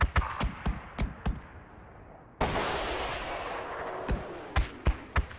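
A TOW missile launched at an APC in the military game Project Reality, heard as a sudden loud blast that gives way to a sustained roaring rush, set among sharp scattered gunshots before and after.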